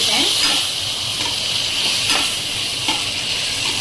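Tomatoes and onions fry in oil for a mutton curry, a steady close hiss and sizzle running throughout with occasional soft stirring scrapes.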